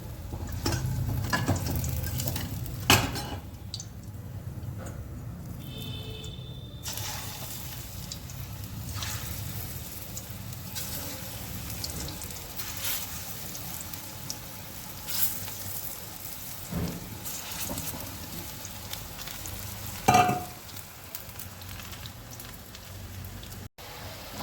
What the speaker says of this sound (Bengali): এইভাবে সব বড়াগুলো ভেজে নেব।